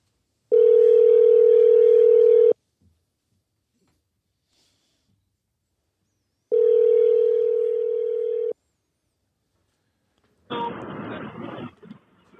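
A steady telephone dial tone sounds twice in long two-second bursts separated by silence, followed by a brief burst of rough noise.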